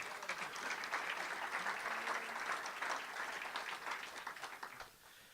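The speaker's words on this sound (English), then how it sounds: "So give them a good round of applause, would you?" Steady audience applause fills a hall at a morning welcome gathering, dense and even for about five seconds before easing off at the end.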